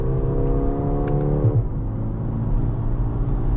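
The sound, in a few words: car driving at medium pace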